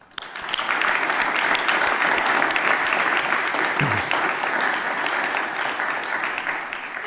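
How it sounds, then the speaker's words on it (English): A church congregation at a conference business meeting breaks into full, steady applause that starts abruptly and holds at a loud, even level throughout. "So I wonder if you would all join me in a round of applause for Dave"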